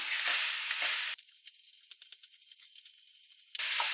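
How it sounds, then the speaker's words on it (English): Ground pork and beef mince frying in a hot pan, a loud bright sizzle that drops to a softer crackle while the meat is broken up, then flares again. "that goes straight onto the hot pan, and I'll start breaking that up"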